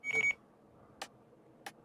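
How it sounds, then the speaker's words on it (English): Short electronic beeps from a device sound in a quiet room: a quick cluster of bright tones at the start, then two single beeps spaced apart, fairly soft and close. "you hear my thing beeping here?"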